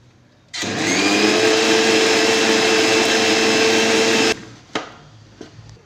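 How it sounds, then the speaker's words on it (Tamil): A mixer grinder grinds coconut with a little water for pachadi, a loud steady whirring motor drone running about four seconds alone, then cutting off into a few small clicks and clatters. "இந்த தேங்காய் கொஞ்சம் தண்ணி ஊற்றி அரைக்கணும்"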